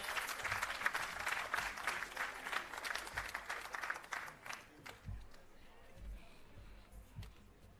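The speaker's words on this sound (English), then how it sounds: "A round of applause." Audience applause at a restorative justice facilitator graduation ceremony, a steady burst of many hands clapping that thins out and fades after about four seconds, leaving scattered claps and low room noise.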